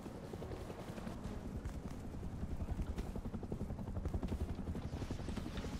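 An attack helicopter in the video game Rust thumps with a fast, steady rotor chop, fairly distant and continuous, holding at an even level throughout.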